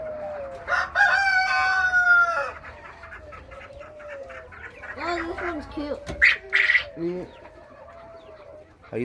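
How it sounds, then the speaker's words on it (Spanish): A Sebright rooster crows loudly in a long, harmonic call, followed by softer clucks and chirps from other fowl nearby, with faint background voices. "Ese gallito es un gallo cebri."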